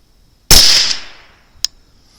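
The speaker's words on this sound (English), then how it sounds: "let's put one more shot in the baseline group" A single sharp rifle shot is fired at a target. The loud crack decays over about half a second and is followed by a faint, brief metallic tick.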